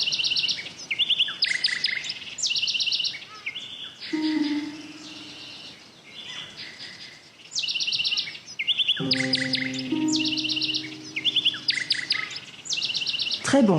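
A bird chirps in the accessible audio game Sonar Islands, rapid bright trilling bursts repeating in clusters, interrupted by lower synthetic tones and a brief voice.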